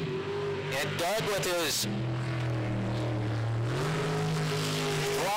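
A race car engine in an ASB Pro Racing Series race revs up and down with feathered throttle into a corner. The engine drones loudly and steadily, with pitch sweeps and a commentator talking over it.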